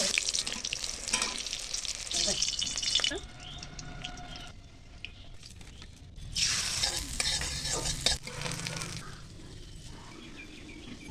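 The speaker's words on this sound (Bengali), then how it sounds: "এবার কড়াইতে তেল দিয়ে তেলটা তাতলে বেগুন আর চাল একে একে ভাজি তুলব।" Eggplant and rice fry in hot oil in a wok, bursts of bright sizzling hiss rising and falling as pieces are added and moved, with quieter stretches and occasional stirring clatter nearby.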